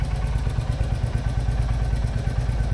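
A Royal Enfield Hunter 350 idles with a dB killer fitted in its exhaust, giving a loud, close, steady thumping beat with evenly spaced low pulses and no talk over it.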